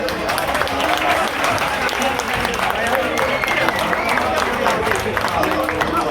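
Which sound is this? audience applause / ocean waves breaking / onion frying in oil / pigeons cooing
audience applause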